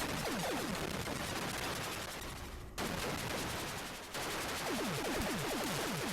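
Continuous fire-button gunfire in the Atari 8-bit shooter Warhawk, a steady buzzing stream of rapid electronic shots. Descending zapping blips sound in short clusters, and two brief gaps interrupt the stream.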